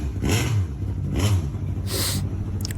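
A 1990s BTCC touring race car's engine revs hard in two loud, rising bursts, followed by a sharp high-pitched pop or crackle, with a steady mechanical drone underneath throughout.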